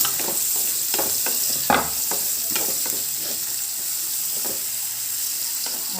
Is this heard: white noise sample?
no